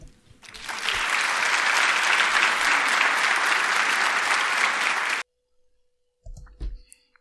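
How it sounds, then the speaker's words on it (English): Applause from a small audience after a talk, a steady burst of clapping that swells fast, holds loud for about four seconds, then cuts off abruptly, followed by brief low handling noise. "Clap, clap, clap."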